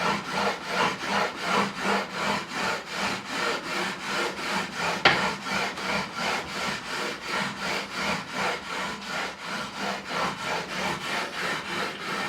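Hand sanding of guitar frets with 400 grit sandpaper during a refret on an Ernie Ball Music Man Silhouette neck: a steady back-and-forth rasping rub repeated rhythmically throughout, close and even, with no voices.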